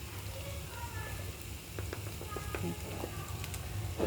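Leafy greens frying in a pan as chili powder is added, a steady low sizzle with light scraping stirs and small clicks of a spoon, fairly quiet and close.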